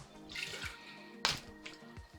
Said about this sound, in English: we're going to get a little bit of water, just a little sploosh of warm water